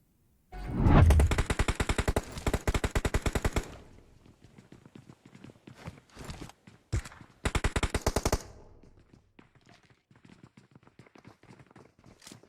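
Rapid automatic gunfire in the mobile battle-royale game PUBG Mobile, two long loud bursts of sharp repeated shots with scattered single cracks and distant shots between them.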